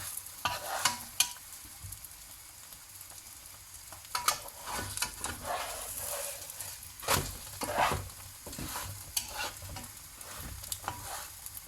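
Msemen flatbread filled with spinach and cheese sizzles steadily in a hot pan, with repeated scraping and stirring sounds as it is turned and moved around, close and moderately loud throughout.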